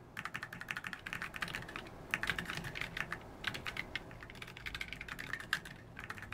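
Rapid, steady keystrokes on a custom 31% keyboard, a dense run of close, crisp clicks with brief pauses, heard alone without any talk.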